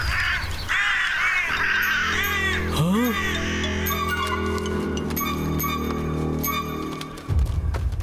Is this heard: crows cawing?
yes